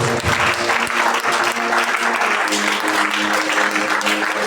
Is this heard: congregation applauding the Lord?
yes